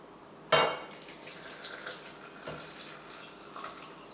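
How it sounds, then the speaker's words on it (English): Water kefir drops into a Thermomix straining basket with one clear wet plop followed by a few fainter splashes and drips, close and quiet. "You gotta love the noises of this plopping into the strainer."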